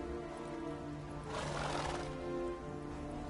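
Roach, Geralt's horse in The Witcher video game, lets out a single whinny in the middle of the moment, rising and fading over about a second against a steady ambient game background.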